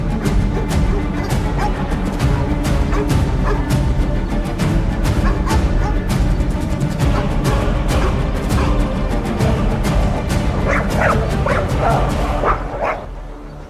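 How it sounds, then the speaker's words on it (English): Several wolves yip, whimper and bark in quick, overlapping calls, loud and close, in a snowy wilderness setting, continuing almost without pause before fading at the end. "only the echo of its howl in the night"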